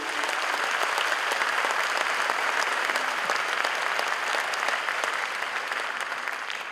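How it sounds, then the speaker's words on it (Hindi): Audience applause at a stage show, steady and sustained clapping from a large crowd filling the whole stretch without letup. "वो है आपकी जोरदार तालियां।"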